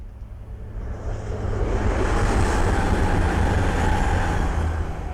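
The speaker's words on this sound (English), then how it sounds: "the next train to pass by is an Eastman's Railway Meridian from London St Pancras to Sheffield" An East Midlands Railway Meridian train from London St Pancras to Sheffield passes close by on the Midland Main Line, a loud steady rushing roar that builds quickly and holds with rumbling wheel noise throughout.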